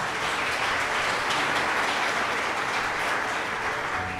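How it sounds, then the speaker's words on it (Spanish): A church congregation gives steady, continuous applause during a sermon, a dense wash of clapping at even level throughout. "Denle un aplauso a Dios por eso."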